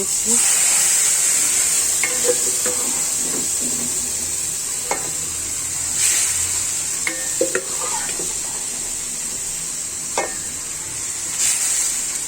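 Boiled bottle gourd pieces stirred in a hot pan, giving a constant loud sizzling hiss with occasional scraping and clinks of the utensil against the pan.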